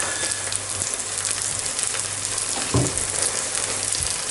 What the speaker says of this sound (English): Put a slither more butter in, just to get those mushrooms on the way.